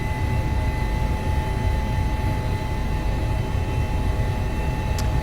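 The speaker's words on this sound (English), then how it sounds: "Helicopter behaving strangely again." A helicopter flying high over an Alpine valley near Chamonix gives a continuous, steady rotor and turbine drone with a faint high whine, loud and unbroken.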